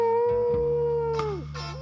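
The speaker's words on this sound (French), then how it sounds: "Chic, des coyotes partout." Coyotes howl in a cartoon Western setting, a single sustained, wavering howl that bends downward near the end, loud and close, with brief yips layered over a steady backing tone.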